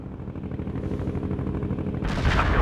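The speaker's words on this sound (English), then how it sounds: "I have incoming mortars!" Mortar barrage in the war game World in Conflict, a dense rumble of overlapping distant thuds and rattling impacts, swelling into a louder, brighter blast at the end.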